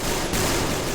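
Video game gunfire for a headshot, a dense burst of loud, continuous shooting packed into a single second with no pause.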